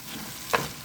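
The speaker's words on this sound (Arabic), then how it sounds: "لسه امسك الرز اقلبه كده تقليبه كده تشوحها مع بعضه" White rice is stirred and sautéed in a pot, a soft continuous sizzle with one brief scraping stir near the middle, close and quiet.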